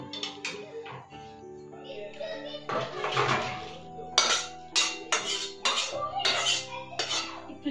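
Chicken curry is poured from a pot into a serving dish, with metal clinks and scrapes of cookware and utensils sounding close, mixed with people talking in the background.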